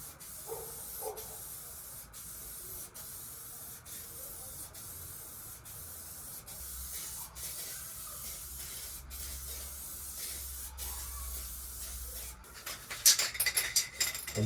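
An aerosol spray paint can coats a Monster Sport body kit for a Suzuki ZC31S with long continuous hissing bursts at close range, punctuated by short gaps. Clattering handling noises follow near the end.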